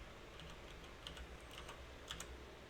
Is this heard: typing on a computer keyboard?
yes